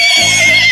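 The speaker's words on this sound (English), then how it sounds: "H is for horse" A horse gives a single short, loud neigh, a bright, wavering whinny that rings out clearly on its own, close to the listener.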